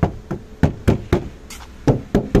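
Knuckles rap on the sheet-metal door panel of a 2018 Kia Cerato 1.6 AT, giving about nine sharp, hollow knocks in an uneven rhythm, close and loud, with no talking.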